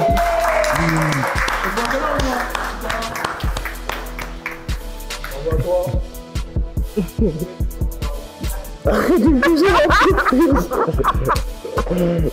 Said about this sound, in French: Félicitations à Romu, applaudissez.